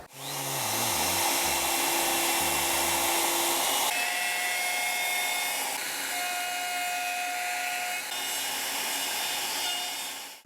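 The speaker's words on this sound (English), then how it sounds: "Let's turn the vacuum on, get these pickups routed." A router cuts pickup cavities into a custom guitar body through a template while a shop vacuum runs, producing a loud, continuous close-up whine and roar with pitch shifts as the cut changes.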